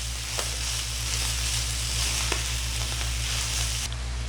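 Chicken liver frying in a pan for a creamy mushroom dish, with a steady, loud, close sizzle throughout and faint occasional stirring scrapes, while a low rhythmic hum from a stove or extractor runs underneath.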